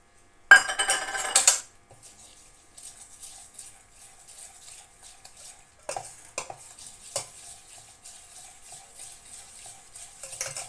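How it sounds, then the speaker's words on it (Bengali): A whisk or spoon stirs crepe batter of milk and water in a bowl, giving faint, irregular scraping and clinking after a brief louder clatter at the start. "একটু ভালো করে গুলে নিতে হবে এটা।"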